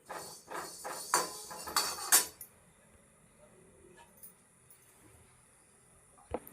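Black urad dal dry roasting in a pan gives off a quick cluster of sharp crackling pops and ticks for about two seconds, then falls to near silence with one last faint click.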